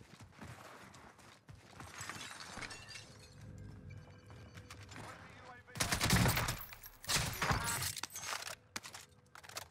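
Rapid bursts of EM2 SMG fire in a Call of Duty Cold War Warzone match on Rebirth Island, crackling shots with shattering and mechanical clatter, building into a dense, louder volley in the second half.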